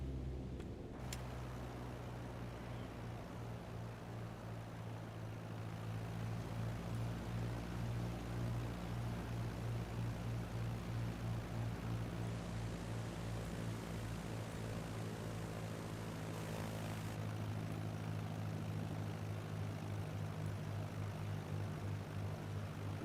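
Propeller plane coming in to land in a flight simulator game, its engine holding a steady, loud drone with a faint hum of tones throughout, and no voices.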